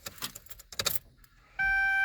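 Some clinking and rustling during work on a car instrument cluster gives way to a steady, continuous electronic dashboard beep tone that starts abruptly and holds through the end.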